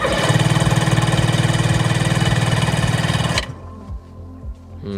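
The 717cc two-stroke engine of a 1996 Sea-Doo HX jet ski runs with throttle applied, a loud buzzing pulsing drone for over three seconds that then drops abruptly to a rough, uneven idle.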